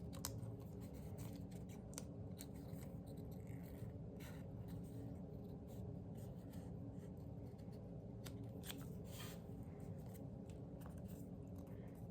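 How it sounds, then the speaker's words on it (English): Scissors snip through a small scrap of paper while making a Christmas gnome folio junk journal, a steady run of close, soft cuts and rustles over a constant low background hum. "because I'm going to cut it."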